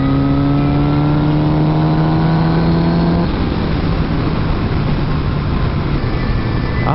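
A Kawasaki Z900RS motorcycle pulls away from a slow 30 km/h zone and accelerates hard, its engine note climbing steadily through the gears, loud and close with wind rush, and no speech.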